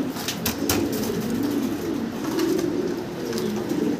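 A large pair of white King pigeons coos nearby in soft, repeated rolling calls, with occasional light knocks and rustles in the background.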